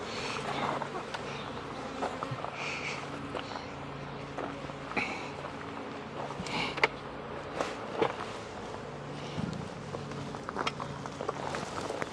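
Honeybees swarm around an opened hive one week after splitting, making a steady, close buzzing over scattered clicks, handling noises and occasional footsteps.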